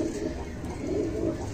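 Red-eyed kasoori golden pigeons cooing close by, soft low rolling coos repeating in a steady rhythm over a faint background hum.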